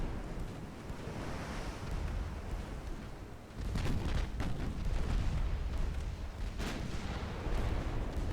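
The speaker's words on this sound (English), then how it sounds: "Oh, torpedo hit, lovely." A torpedo strikes a ship in a naval strategy video game, a heavy booming blast that breaks into rushing, surf-like noise over a steady windy ocean wash.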